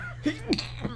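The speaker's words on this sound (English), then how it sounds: "I'm gonna sneeze." A single short sneeze, close and fairly quiet, a quick sharp burst of breath over a low steady hum.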